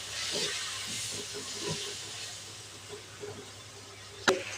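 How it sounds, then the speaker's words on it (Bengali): Chicken sautéed as kosha in a pan gives a steady, soft sizzling hiss, with faint stirring scrapes and a single sharp clink of a utensil near the end. "মাংসটা আমি কষিয়ে নিই"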